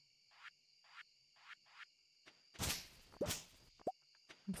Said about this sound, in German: Ein Frosch haben wir gefunden.